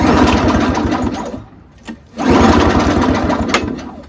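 A Craftsman snowblower with a Tecumseh 5HP single-stage engine is pull-started with its spark plug removed, giving a loud, rapid mechanical chatter that pauses briefly near the middle before a second pull resumes the churning rattle.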